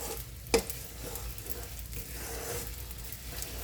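Edible gum (gond) fries in ghee for an Indian sweet, giving a steady close sizzle and crackle with a sharp stirring scrape near the start and softer stirring noises after it.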